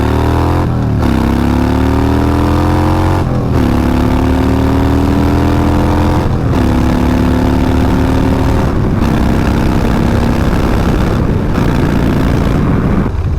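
A salvaged Harley-Davidson Dyna motorcycle engine runs loud and steady, its throttle blipped into several rising revs that settle back to a rumbling idle, with no talk over it.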